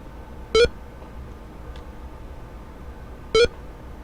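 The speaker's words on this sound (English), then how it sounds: "At least this thing isn't making an annoying beeping noise anymore." A Space Quest video game emits two short electronic beeps about three seconds apart, each clear and bright against a quiet background.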